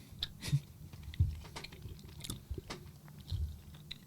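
Quiet, close chewing with soft crunches and wet mouth sounds coming in irregular bursts, and no talking.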